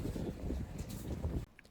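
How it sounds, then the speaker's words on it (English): Strong wind buffeting the microphone with a low, steady roar in the mountains of Ecuador, cutting off abruptly near the end. "And it's extremely windy."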